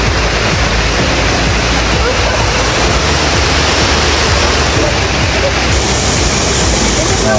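Falling water of an indoor fountain in the Galleria Mall in Abu Dhabi, a loud, steady, dense splashing rush that continues without a break.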